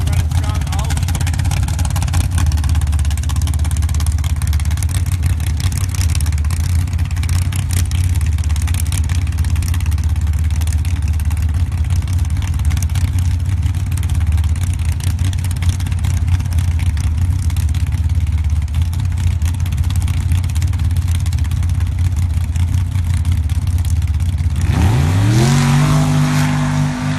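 Drag racing cars roar at a race track during a Pro Gambler elimination round at a season-opening event, giving a loud, continuous engine drone for most of the run before a sharp rev surge near the end, with an announcer talking over it.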